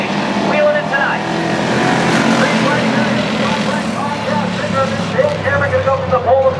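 Race cars roaring around a short-track oval at Lee USA Speedway during a Ridge Runners feature, engines droning steadily and loud throughout with crowd and track noise mixed in.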